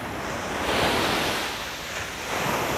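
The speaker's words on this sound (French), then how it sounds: "La puissance des vagues." Powerful ocean waves break on an empty beach near Seville early in the morning: a continuous roar of surf that swells, eases, then builds again, loud and close, with wind noise and no voices.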